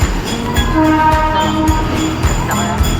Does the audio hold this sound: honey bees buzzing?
no